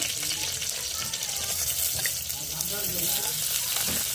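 Green chillies and onions frying in hot oil, giving a steady hissing sizzle close by throughout, with a voice talking over it.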